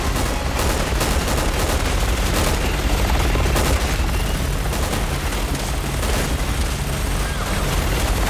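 Dense, continuous video game gunfire in Resident Evil 6 as an enemy is shot, a loud unbroken barrage of rapid shots and booms lasting throughout with no pauses.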